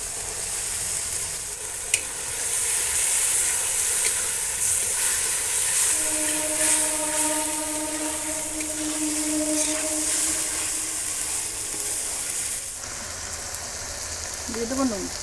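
Potatoes sizzling as they are added to a Sundarbans-style crab curry, a steady broad frying hiss with a faint tonal whine in the background, no talking.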